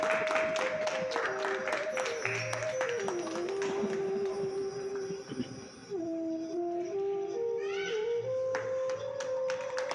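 Audience applause at an event inauguration with a ceremonial lamp lighting, a steady patter of clapping from a seated crowd that runs under sustained musical tones throughout.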